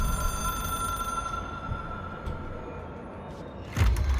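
A ringing telephone in the video game Control, the hotline phone treated as an object of power, rings over a steady low rumble, with a louder burst near the end.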